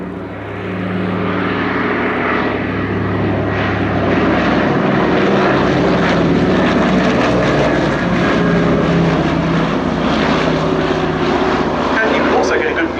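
Radial engines of a Catalina flying boat drone loudly at an airshow, a sustained propeller roar that holds steady and close while a commentator talks over it.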